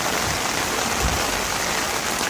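Steady rain pours down around a home-built rainwater catchment system, with water spilling from the full barrel in a small fountain, a dense, constant hiss close to the microphone and no talking.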